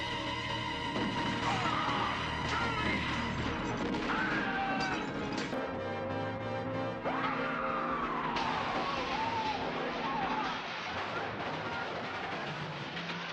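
A car skids loudly in the film Scanners, a long tire screech and crash noise filling the scene, with no talk over it.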